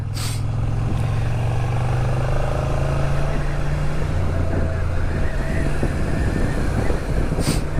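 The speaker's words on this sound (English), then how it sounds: "I wonder if you can still hear me, but the wind's rattling by." Wind noise buffeting a rider on a Suzuki Gladius motorcycle descending a mountain road on La Gomera, a loud, constant roaring rush with a steady engine drone underneath, no break throughout.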